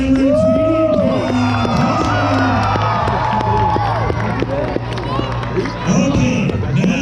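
A large crowd at a monster truck show cheers and shouts for a driver, dense and loud throughout, with children's shrieks and whoops rising and falling across the whole stretch.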